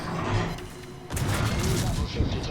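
Naval guns firing at the battleship North Carolina in World of Warships, heavy booming salvos with a sharp onset midway, loud and close, under a talking voice.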